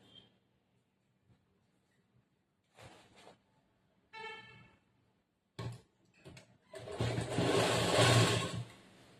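Sewing machine stitching a double-folded hem on a churidar top, in several short bursts of running separated by pauses, ending in a longer, louder stretch of stitching.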